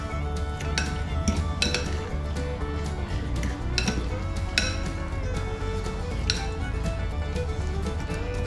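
Red claw crayfish being coated in honey chilli sauce in a bowl, with clinking and scraping of utensils against dishware, steady and close, against a low background hum.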